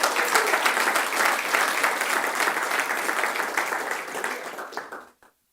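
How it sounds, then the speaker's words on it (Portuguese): A church congregation gives strong applause during a sermon, a full, steady wash of clapping that holds for about five seconds, then tapers and cuts off abruptly. "dê um aplauso forte para o Senhor Jesus"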